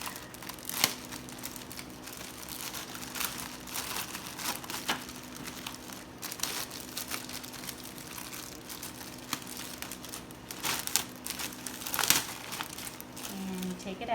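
Plastic packaging of a Super XL barium enema system being opened, giving continuous close crinkling and rustling with scattered sharper crackles throughout, fairly faint.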